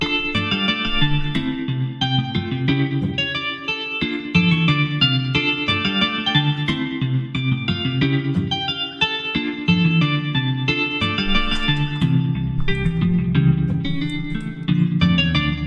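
A bright, effect-laden synth guitar preset from the Morphine synth in FL Studio plays a continuous melodic line with chorus and echo, sustained notes and rhythmic plucks throughout, loud and without any voices.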